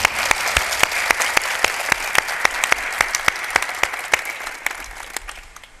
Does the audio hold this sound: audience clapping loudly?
yes